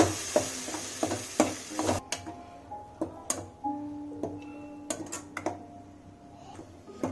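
Ground onion sautéed in a pan for a cabbage gravy, a spoon tapping and scraping in irregular close strokes over a faint sizzle, with no speech.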